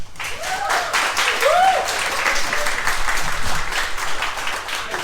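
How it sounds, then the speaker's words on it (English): An audience at a comedy show claps loudly and continuously, a dense wash of applause with a few cheers or whoops rising above it. "keep that applause going for Benjamin."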